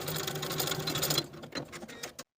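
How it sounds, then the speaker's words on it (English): Sewing machine stitching the short edges of lace dress sleeve bindings, a fast steady mechanical whir for about a second, then a few brief stop-start bursts before it cuts off, close and quiet. "Sew these short edges with a 3/8 inch seam allowance and press the seams open."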